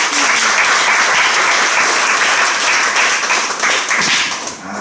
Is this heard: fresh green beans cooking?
no